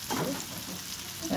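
Chopped onion, garlic and ginger fry in oil left from frying prawns and pointed gourd, a soft, even sizzle with light stirring scrapes, fairly quiet and brief.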